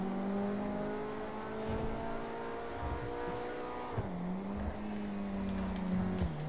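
A sports car engine revs hard in GTA 5, steady harmonic whine climbing then dropping to a lower gear pitch midway before rising again, loud and close with no talking.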